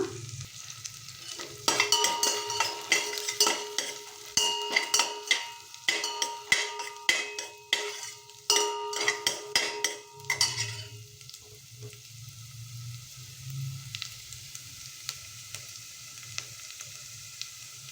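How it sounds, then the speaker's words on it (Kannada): Onion and garlic frying in a pan for a sweet pumpkin palya, with close scraping stirs and clattering over a soft sizzle that settles into a quieter hiss after the stirring stops. "ಈರುಳ್ಳಿ ಮತ್ತು ಬೆಳ್ಳುಳ್ಳಿ ಎರಡನ್ನೂ ಹಾಕ್ಕೊಂಡಿದ್ದೀನಿ ಇವಾಗ ಇದನ್ನು ಸ್ವಲ್ಪ ಫ್ರೈ ಮಾಡ್ಕೊಳ್ಳೋಣ"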